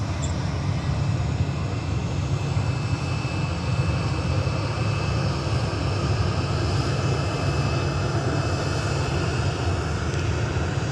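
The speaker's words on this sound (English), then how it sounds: "there's your Ryanair plane" A Ryanair airliner landing at Manchester airport gives a steady, broad jet roar that holds loud and even throughout, heard from nearby without talk.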